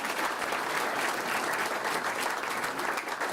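A crowd at a soccer team announcement event applauds steadily and evenly, a dense, continuous wash of clapping with no talking over it.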